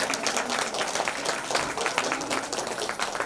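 Applause from an audience at a Satyug festival gathering comes as a dense, moderately faint patter of many clapping hands that holds evenly throughout, with light crowd murmur underneath.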